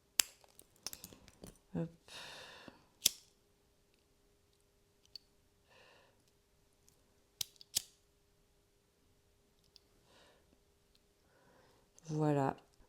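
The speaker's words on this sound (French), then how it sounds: "Il nous reste à couper nos petits fils." Small scissors snip the leftover threads of a macramé micro bracelet in a few sharp, quiet clicks. Soft handling noises and a short spoken word come between the cuts.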